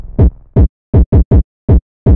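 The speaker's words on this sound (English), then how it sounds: "Firstly, you gotta always have a good kick." A punchy electronic kick drum thumps seven times in a bouncy, uneven rhythm, loud and dry with nothing else behind it.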